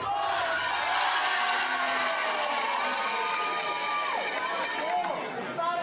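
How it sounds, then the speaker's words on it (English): A dense arena crowd at a professional pickleball match in the MLP finals chatters and shouts continuously, loud and close, with rising voices throughout and no clear single speaker. "Listen to the crowd."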